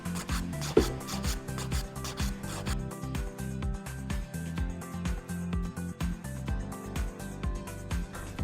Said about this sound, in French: Donc vous venez bien incliner votre lime vers l'avant.